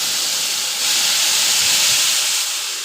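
Chana dal tipped into a hot pan with asafoetida and green chillies gives a steady loud sizzling hiss, swelling slightly and holding close throughout.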